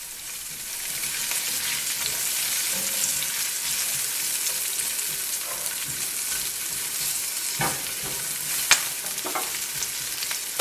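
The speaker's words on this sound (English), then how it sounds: "So onions and garlic go in here now, and I'm just going to let this cook until it is almost brown, golden brown" Onions and garlic sautéing in a pan for a vegetable egg scramble, a steady close sizzle and crackle of frying with a few light clinks of stirring.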